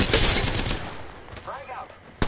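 Bursts of rapid automatic gunfire in the Apex Legends video game open loudly and close, fade into the background under a brief voice, then return with a sharp shot at the end.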